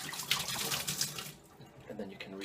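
Tap water runs and splashes into a twist-top Rolling Rock beer bottle being rinsed, a busy broadband rush that eases off midway, then gurgles as water sloshes inside the glass.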